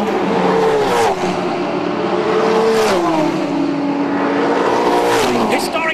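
Touring cars racing at the Phillip Island Classic, engines revving and shifting through gears as they pass, pitch sweeping down and rising again, loud and close, with a voice talking over them.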